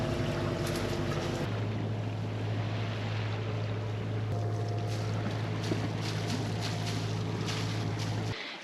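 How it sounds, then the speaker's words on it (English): A sailboat's engine drones with a low steady hum beneath loud wind buffeting and rushing water at sea near the Bahamas, constant from start to finish. "So we're running the engine"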